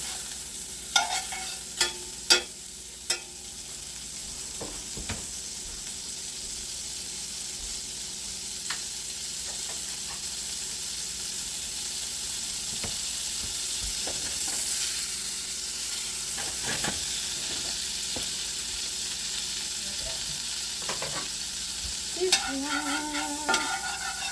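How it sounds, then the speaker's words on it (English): Cube steak fries in margarine in a pan with a steady, close sizzle and hiss, broken by occasional scrapes and clicks of a utensil stirring or turning the meat. "I'm going to put some more margarine in the pan."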